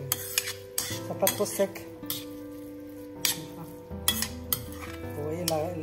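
Spoon stirring rice stuffing for squid in a pan, irregular scraping clinks and taps against the pan under a low sizzle, with a voice speaking briefly over it.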